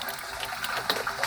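Water flows on a six-acre organic arecanut farm as a steady, soft rush with a few brighter splashes toward the end.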